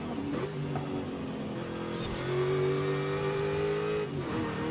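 Engine note of a not especially fast Mercedes in the racing game Forza Horizon 5, rising as the car accelerates, with a steady loud drone that climbs in pitch and dips briefly near the end, with no talk over it.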